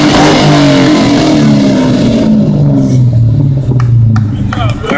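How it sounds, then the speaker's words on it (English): A car with a loud exhaust revs hard at a car-show exhaust competition, its engine note climbing and falling in a few close, loud sweeps before easing off, with crowd voices in the background. "Loud exhaust."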